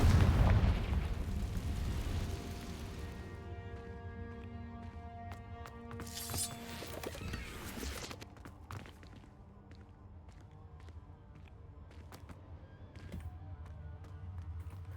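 A Confringo fire spell blasts in Hogwarts Legacy, giving a loud burst at the start that decays into a rumbling, ringing tail, with further crackling impacts around the middle and scattered game noise afterward.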